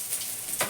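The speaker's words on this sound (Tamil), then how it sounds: "இந்த கருவேப்பிலை வெங்காயம் பூண்டு அப்படியே பொன் வறுவலாக வறுக்கணும்" Curry leaves, onion and garlic sizzle in hot oil, a steady close frying hiss with a brief louder spatter near the end.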